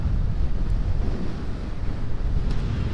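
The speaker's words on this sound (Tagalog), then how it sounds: "Grabe naman ang hangin dito." Wind roars against the microphone in a steady low rush outdoors near Mount Mayon in Bicol, loud and continuous for a few seconds with no voices.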